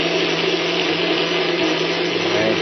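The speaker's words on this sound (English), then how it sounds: "I'm blending out the coconut" A kitchen blender whirs steadily as it blends coconut for Jamaican run dung, a constant loud motor drone with no pauses.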